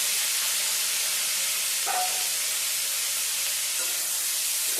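Drained squash tipped into hot oil with tempering spices in a pan, giving a continuous loud sizzle and hiss with a couple of brief scraping stirs.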